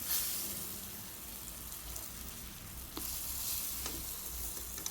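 Brinjal fries in a covered pan over low to medium heat, giving a steady soft sizzle throughout with faint stirring or lid sounds.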